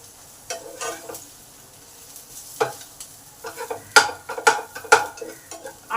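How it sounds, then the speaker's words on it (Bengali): Sliced onion and potato fry together in a hot pan, soft steady sizzling broken by sharp clinks and scrapes of a spatula stirring, growing busier and louder toward the end. "পেঁয়াজটাকে আলুর সঙ্গে ভালো করে ফ্রাই করে দিলাম"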